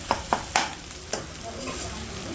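Ginger and garlic frying in a pan for chicken curry, with a constant sizzle broken by a few quick spoon knocks early on and softer stirring afterward.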